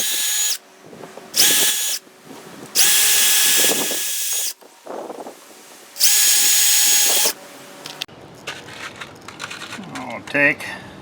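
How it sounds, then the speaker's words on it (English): A power drill bores pilot holes in sheet metal on an RV furnace access panel, several loud whining bursts of varying length with short gaps between them, then clattering and handling noises at the end. "I'm going to go and drill some pilot holes in there for our sheet metal screws to securely fasten it."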